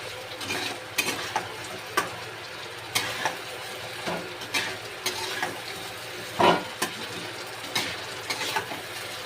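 Butter chicken masala is fried in butter in a pan with regular spatula scrapes and knocks about once a second over a soft, steady sizzle, close and without voices.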